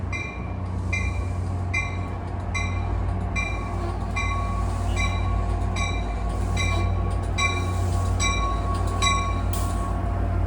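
A New Jersey Transit diesel train runs from Suffern to Hoboken, led by EMD locomotives, with a loud steady engine drone and regular clicking wheel beats over the rail joints throughout.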